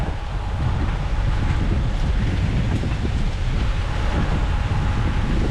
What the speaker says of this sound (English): the wind has definitely picked up